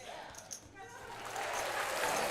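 An applause sound plays during a gaming livestream, a broad burst of clapping that swells in the second half while a voice talks over it.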